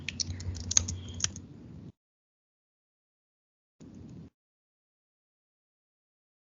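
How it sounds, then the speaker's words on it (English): Keys on a computer keyboard clack in a quick burst lasting about two seconds, followed by a short tap after a pause, with no talking. "And click enter button."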